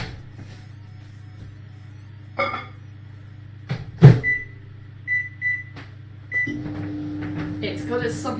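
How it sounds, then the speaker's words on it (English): A microwave oven running with its steady low hum, broken by a few door clunks and short beeps, heard nearby with no talking. "I'll put that in the microwave for like a couple minutes"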